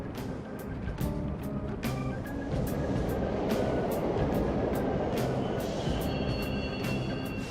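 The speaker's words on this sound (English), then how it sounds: "The trains are totally running!" A subway train in the video game Persona 5 Royal rumbles steadily past, with sharp metallic clacks and screeches over a dense, continuous roar; no one speaks.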